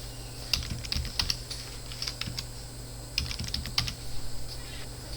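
Keystrokes on a computer keyboard as a username and password are typed into a Kali Linux login screen, short bursts of clicky taps in two clusters over a steady low hum.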